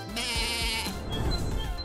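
A cartoon goat lets out a drawn-out, wavering bleat that sits over a busy backdrop of music and effects, fairly loud and present throughout.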